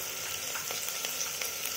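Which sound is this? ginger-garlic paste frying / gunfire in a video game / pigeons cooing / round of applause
ginger-garlic paste frying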